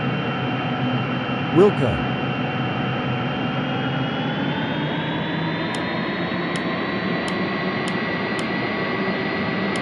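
A Boeing 777-300ER taxis to the gate after landing, its jet engines giving a steady, loud whine and rumble throughout, with a short radio voice near the start.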